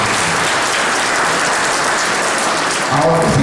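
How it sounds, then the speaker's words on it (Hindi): Wedding guests at a Christian traditional ceremony break into dense, steady applause that fills the room, a continuous wash of many hands clapping at once with no voices standing out. "चलिए जोर से ताली बजाते हैं"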